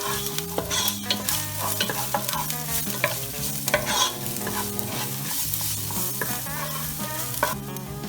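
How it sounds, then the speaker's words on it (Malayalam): Crushed ginger, garlic and six green chillies fry for egg biryani with a busy sizzle and repeated stirring scrapes, heard under tuneful background music. "ഒരു 6 പച്ചമുളക് ചതച്ചത്, എല്ലാം നന്നായി വഴറ്റി കൊടുക്കാം"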